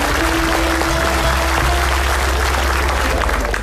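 Studio audience applause on an Indonesian TV comedy talk show fills the space continuously, a dense, steady roar of many hands clapping at close range with no talk over it.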